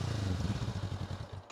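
Honda NX500 motorcycle engine idling with its exhaust pipe close by, a steady low throbbing pulse with rhythmic beats, loud and continuous before cutting off briefly at the end.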